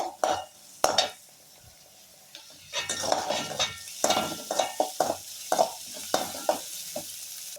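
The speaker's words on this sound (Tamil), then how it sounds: "வெங்காயம் நல்லா செவக்க வதங்கணும், அப்போ தான் நல்லாயிருக்கும் சட்னிக்கு" Onions sauté in a pan with dried red chillies and green chillies for a brinjal chutney. A spatula repeatedly scrapes and clinks against the metal pan in uneven bursts over a soft sizzle.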